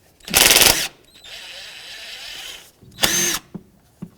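A power tool spins off the 10 mm bolts on the fuel feed line of a 2003–2007 Nissan Murano, two loud close whirring bursts separated by a quieter hum, followed by small metallic taps.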